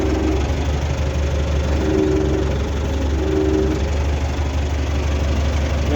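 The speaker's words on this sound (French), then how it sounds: "Ce tracteur marche très très bien." A tractor (the 651) idles with a steady, loud, low rumbling drone that holds even throughout, heard close with no talk.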